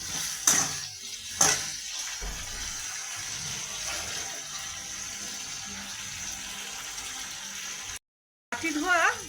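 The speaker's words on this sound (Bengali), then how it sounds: "বাটি ধোয়া জল দিয়ে দিলাম" Bowl-rinsing water pours into a pan of chili chicken, a steady running splash lasting several seconds after two short knocks, then a brief gap before a voice speaks.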